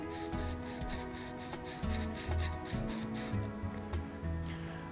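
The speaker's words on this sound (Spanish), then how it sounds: "El último paso para dejar listo nuestro cálamo es lijarle la punta para que quede pareja y bien chata" Tip of a calligraphy reed pen rubbed on sandpaper to flatten it, a run of short rhythmic scratchy strokes, close up and fairly quiet, with no voices.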